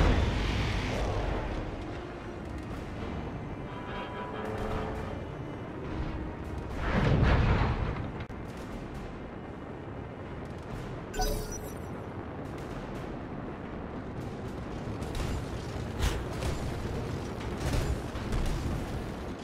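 Heavy weapon fire from mechs in the BattleTech video game, with a strong booming blast near the middle, a sharp crack later and scattered mechanical clanks over a low rumbling bed, no talk.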